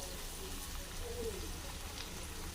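Ajwain and black cumin seeds hit hot oil while an amra (hog plum) pickle is being cooked, giving a soft, steady crackling sizzle that continues evenly without a break.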